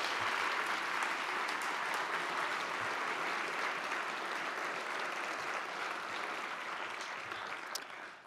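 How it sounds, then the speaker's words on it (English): Sustained audience applause fills a police department awards ceremony, a dense, steady wash of clapping from a large crowd that holds for several seconds before tapering slightly at the end. "So let's give them a round of applause again."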